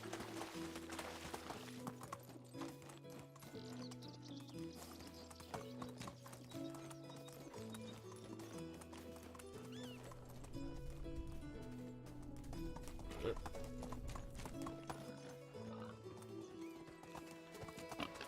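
A horse in the game Medieval Dynasty gallops along in a steady clip-clop of hooves with an occasional whinny, heard over a continuous bed of music.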